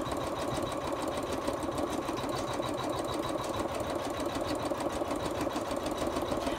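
An embroidery machine runs steadily as it stitches fleece, giving a continuous fast mechanical whir with a rapid regular needle rhythm at close range and no pauses.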